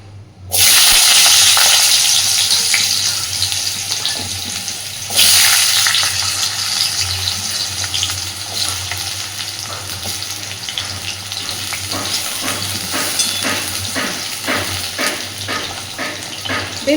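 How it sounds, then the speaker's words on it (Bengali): Small diced potatoes dropped into hot oil, a sudden loud sizzle that holds steady, with a second surge partway through and faint stirring clicks later. "সুন্দর করে আলুটা ভেজে নেবো এবার"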